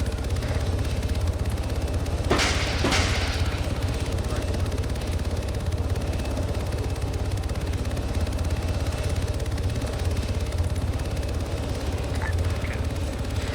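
Two quick rocket launches fire in close succession in a video game, short bright whooshing bursts over a constant loud engine-like drone.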